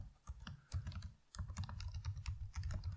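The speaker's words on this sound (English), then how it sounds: "so let me just type in it here." Fingers type on a computer keyboard in quick, irregular bursts of soft clicking keystrokes, heard up close but quiet, with a short pause near the start and no talking.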